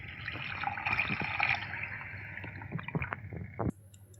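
Tamarind water poured into a simmering garlic kuzhambu, a close liquid pour and splashing with a few drips, ending abruptly after about three and a half seconds.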